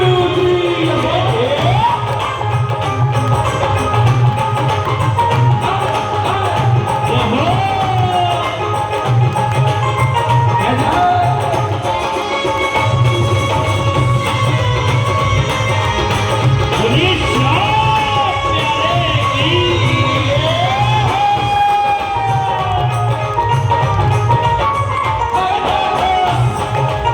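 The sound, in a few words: audience clapping and cheering at a Shyam Baba bhajan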